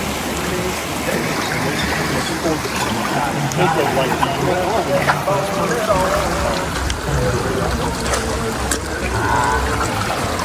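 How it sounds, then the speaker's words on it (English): River water flows and splashes steadily near hot springs at La Desembocada outside Puerto Vallarta, a continuous broadband rush with people's voices mixed in throughout. "And now the time to cool off in the river."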